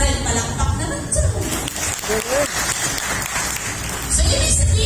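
Applause from an audience at a business opportunity presentation: steady clapping that rises and falls, with voices mixed in under it.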